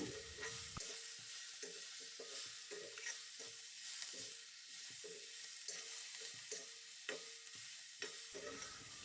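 Black pepper and cumin seeds fry in a pan, making a soft, steady sizzle. A spoon stirs them in a repeated rhythm of scraping strokes close by.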